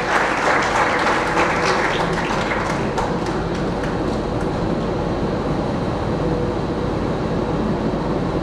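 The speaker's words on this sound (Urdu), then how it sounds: "آپ کی بھرپور تالیوں میں شکریہ ادا کرتا ہوں۔" A church congregation at a Feast of St. Francis of Assisi service in Lahore claps, a dense burst of applause that swells near the start and then thins into a broad, steady patter.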